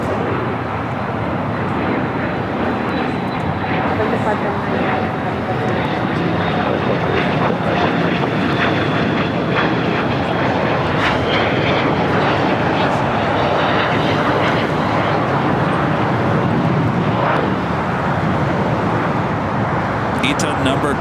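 Antonov AN-124 freighter taking off from LAX, a steady loud broadband jet roar that holds throughout, with faint radio chatter beneath.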